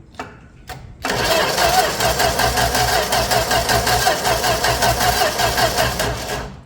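A few quick cranks, then the slant-six engine of a 1965 Plymouth Valiant 100, started with a 200 amp starter, catches and runs with a steady, rhythmic idle close by, loud and slightly uneven.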